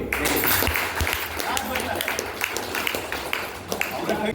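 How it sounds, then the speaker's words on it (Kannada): An audience at a health care academy community event claps in scattered, uneven bursts, with a voice talking over the applause. "ಒಂದು ಚಪ್ಪಾಳೆ ಕೊಡಿ"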